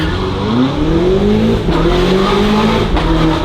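A BMW G90 M5 fitted with a Valvetronic Designs exhaust revs hard and close, its engine note climbing, dipping briefly and rising again in a loud, raspy surge with no voices.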